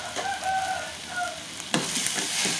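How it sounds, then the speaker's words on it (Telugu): Tomatoes with half a teaspoon of salt cook in a frying pan for coriander chutney, giving a steady low sizzle with occasional stirring scrapes and one sharper clatter partway through, and no voices. "అదే మూకుడులో ఈ టమాటాలు వేసుకుని ఉడికించుకుందాం"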